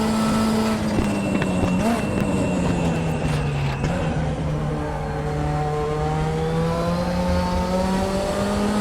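A Group 5 turbo race car at Bathurst in the RaceRoom racing game holds a loud, continuous engine drone with shifting revs and a brief change in pitch, with no talk over it.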